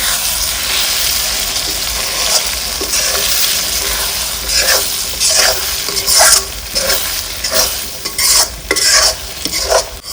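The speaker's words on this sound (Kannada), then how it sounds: "ಈಗ ನಿಧಾನಕ್ಕೆ ಇದನ್ನು ಮಿಕ್ಸ್ ಮಾಡ್ಕೊಳ್ಳೋಣ" Tomato egg rice is stirred and mixed in a hot pan, with loud, continuous frying hiss and sizzle under repeated scraping strokes of a spatula close by. No one talks.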